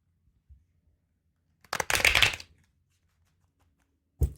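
Tarot cards from a cat-themed deck are shuffled in one quick, close burst of papery riffling lasting under a second, alone in an otherwise quiet room.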